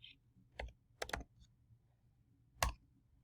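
A handful of crisp keystrokes on a computer keyboard arrive in a short, uneven burst followed by a lone later tap, close and quiet in an otherwise still room.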